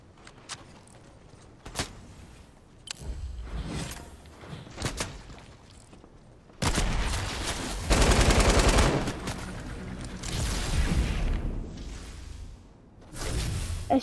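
Rapid bursts of automatic gunfire in the video game Fortnite, loud clustered volleys with short gaps, the heaviest sustained barrage in the middle, alongside whooshes and thuds of in-game action.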